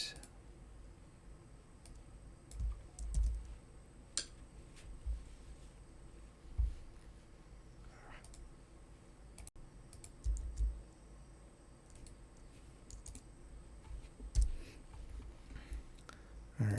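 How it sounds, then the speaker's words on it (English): Faint, scattered keystrokes on a computer keyboard tap out in small bursts across the stretch, with no talking over them. "I'm hitting the wrong keys."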